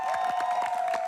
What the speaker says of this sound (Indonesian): Dari Perbanas tepuk tangan dong.